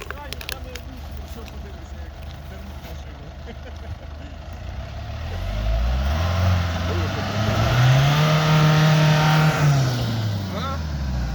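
Nissan Navara pickup stuck in mud during an off-road test, engine revving up into a loud sustained roar that rises and falls, with people talking throughout.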